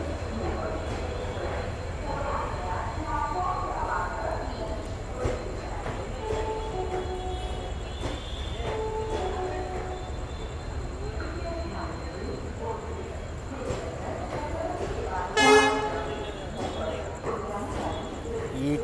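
The 11139 CSMT–Hospet Superfast Express rumbles steadily past for a long stretch, with one brief, loud horn blast sounding near the end.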